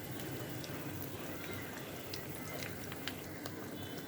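Food sizzling steadily in hot oil for an iftar meal, a dense continuous crackle and bubbling with small pops throughout, fairly faint and without talk.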